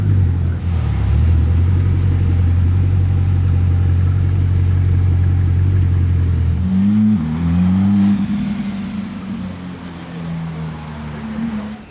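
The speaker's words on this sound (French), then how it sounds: "Ça va garer la dernière voiture à sa place derrière l'autre Chiron là." A Bugatti Chiron hypercar idles loudly and close with a deep, even rumble, then blips and revs with a couple of rising swells as it is maneuvered into a parking spot, settling into a quieter idle.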